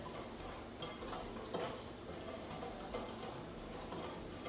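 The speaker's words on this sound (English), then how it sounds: "So I'm just gonna whisk those all together." Dry ingredients for pumpkin muffins are whisked together in a bowl, making quiet, rapid scraping and light metallic ticking that repeats steadily with nobody speaking.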